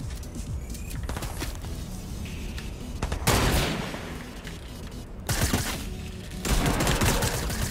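A rapid barrage of gunfire in Fortnite with sharp broadband bursts, several loud volleys and repeated shots over a constant busy game background.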